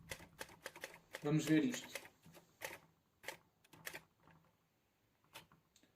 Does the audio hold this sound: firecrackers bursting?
no